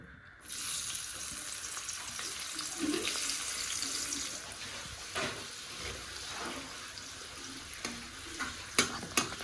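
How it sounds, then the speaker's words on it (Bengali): A steady, loud sizzle of sliced onions frying in hot salted oil, broad and hissing, with a few sharp clicks and pops near the end. "পেঁয়াজটা লাল লাল করে ভাজা হয়ে গেছে"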